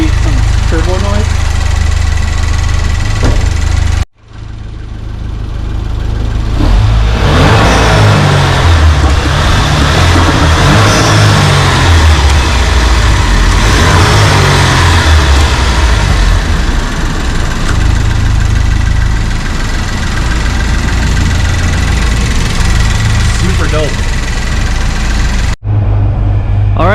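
A 2008 Pontiac Solstice GXP with a turbo engine, a rare Pontiac, revs up and holds a loud, rough roar for most of the run, then settles back. Talk runs faintly underneath the engine.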